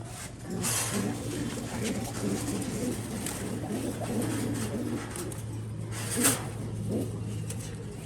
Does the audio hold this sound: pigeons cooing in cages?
yes